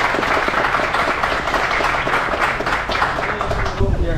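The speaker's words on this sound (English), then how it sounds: "I would like us to give them a huge round of applause" An audience applauds at an International Indigenous Day event in Guyana, continuous clapping at moderate loudness with voices and crowd murmur mixed in throughout.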